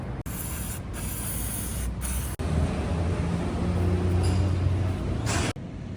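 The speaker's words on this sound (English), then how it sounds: "clean the bearings with a contact cleaner" Contact cleaner sprayed onto KTM 1290 motorcycle bearings, a loud, close hiss in several long bursts with short breaks between them.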